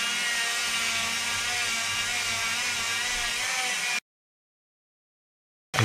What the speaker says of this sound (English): I'm going to use a flat disc Dremel which has got a wire brush attachment onto it